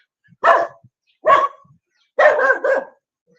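Dogs bark outdoors on a walk in Thailand, three sharp nearby barks spaced about a second apart, the last one a quick double bark.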